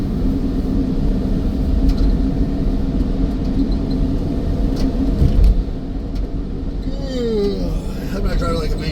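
A car drives a winding road at an easy pace, its engine and tire rumble a steady, low drone close by, while someone talks over it throughout.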